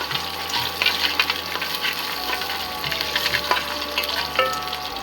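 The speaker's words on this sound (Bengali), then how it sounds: "কাজু বাদামটা হালকা নাড়াচাড়া করে নিতে হবে" Cashew nuts sizzle steadily in oil inside a pressure cooker, a dense continuous frying hiss broken by scattered scraping clicks as they are stirred close by.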